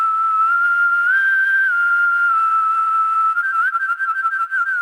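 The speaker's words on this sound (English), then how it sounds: "I chose this whistle sound that I found in one of my libraries" A sampled whistle from a music sound library plays alone, a clean sustained tone gliding between a few pitches, steady and loud, then breaking into shorter stuttering notes near the end.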